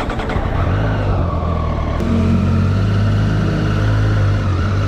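A Triumph Street Triple 765 RS motorcycle engine drones loudly and steadily while riding, its pitch shifting slightly with wind rush and no talking.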